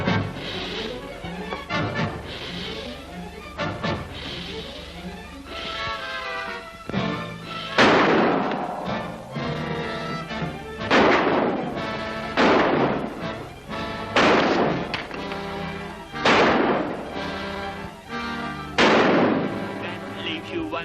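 Gunshots from an old film serial crack out one after another, sharp reports spaced through a tense scene, with dialogue and dramatic music running underneath.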